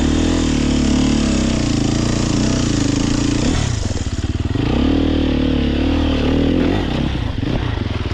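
A 2023 Sherco SEF 300 four-stroke dirt bike lugs up a climb, its engine a loud, low, chugging drone that dips and strains midway before pulling on steadily, close and continuous.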